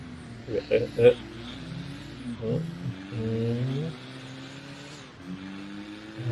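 A modified Isuzu D-Max pickup with Lao plates driven in Assetto Corsa, its engine note rising and falling in steady revving sweeps, with people talking over it throughout.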